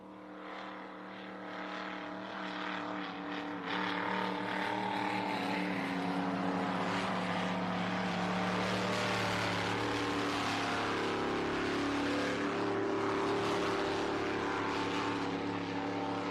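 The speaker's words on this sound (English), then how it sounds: "Boat sounds very strong." A racing speedboat on its warm-up lap at a runabout and speed boat club event, its engine droning and rising from moderate to loud, then holding a strong, sustained roar with shifting pitch.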